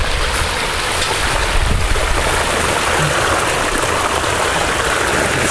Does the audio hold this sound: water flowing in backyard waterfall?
yes